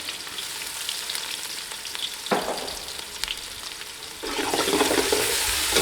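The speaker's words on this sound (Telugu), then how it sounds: "బాగా ఫ్రై చేసుకోవాలి." Sliced onions and four green chillies, about 250 grams of onion, fry in a pan with a loud, steady sizzle. A sharp stirring scrape cuts in, and the hiss swells brighter near the end, close up with no speech.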